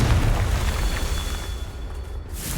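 A Confringo blasting spell bursting in Hogwarts Legacy, a loud rumbling explosion with a broad roar that fades slowly over a couple of seconds, no voices over it.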